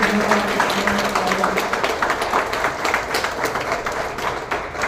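An audience at an RCM seminar applauds, a dense, steady wash of many hands clapping that stays loud and even for several seconds before easing slightly.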